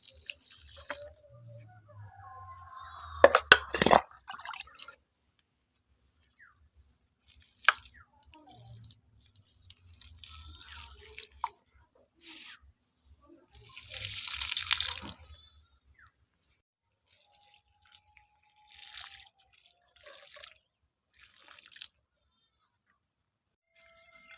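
Water soaked with mustard cake fertiliser is poured onto the bases of potted tulsi plants in scattered short bursts: soft splashes, drips and wet squishes into soil, separated by quiet gaps.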